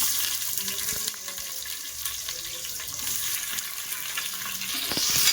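Onions sauté in hot oil for prawn biryani, a continuous close sizzle with faint scraping of a spoon and no talk.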